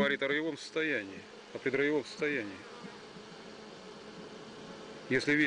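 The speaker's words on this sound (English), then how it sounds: "we see that this bee colony is preparing to swarm" A honey bee colony preparing to swarm fills the background with a steady buzzing hum while a person talks over it in bursts.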